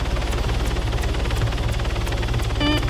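Helicopter rotor thumping steadily and loudly in the video game Arma 3, a close, rhythmic chop over a low engine drone with no voices.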